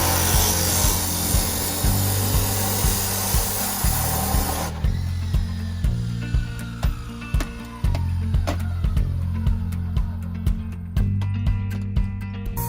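A power saw cuts through a clamped brass pressure relief valve salvaged from a water heater for scrap, a loud whining blade with rhythmic grinding bursts as the metal is fed through, continuing steadily with no talking.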